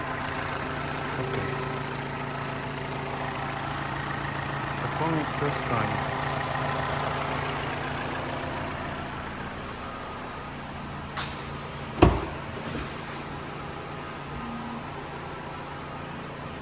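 A petrol 1.6-litre engine of a 2008 Opel Astra H idles steadily and evenly throughout, with a person speaking briefly over it and a sharp click partway through.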